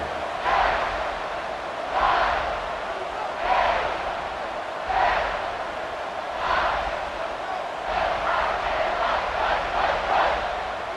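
A stadium crowd in the football video game EA Sports College Football 26 roars in repeated rhythmic swells, chanting in waves every second or two and quickening toward the end, under steady background noise.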